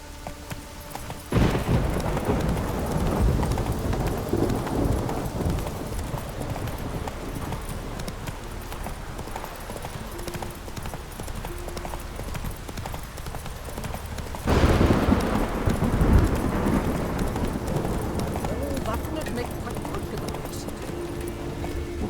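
Horse hooves clopping steadily in The Witcher 3, a continuous galloping rhythm with a louder burst partway through, voices speaking over the hoofbeats.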